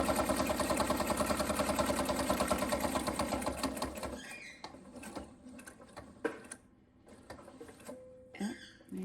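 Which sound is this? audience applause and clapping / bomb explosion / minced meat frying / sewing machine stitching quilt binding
sewing machine stitching quilt binding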